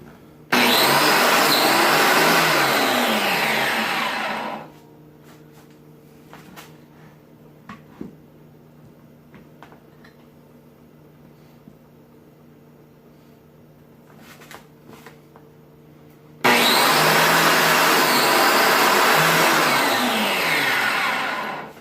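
A biscuit joiner cutting a candle stand top spins up with a loud, bright whine, drops away into a quiet stretch of faint hum and small knocks, then surges again for a second plunge cut.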